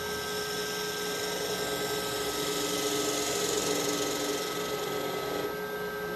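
A woodturning lathe spins steadily while a 1/4 inch spindle gouge hollows out a wooden form, producing a continuous, even whirring hum with a faint scraping edge, close and alone.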